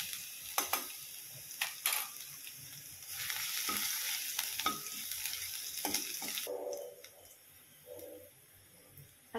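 Cumin seeds, curry leaves and garlic dropped into hot oil crackle and hiss in a loud, bright sizzle with clinks and stirring, then the frying quickly dies down to a quieter bubbling.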